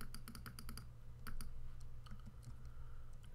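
A headset wire draped across a computer keyboard is tapped by a finger, giving quick bursts of faint, light clicks, a fast cluster at first and then scattered taps, over a low background hum.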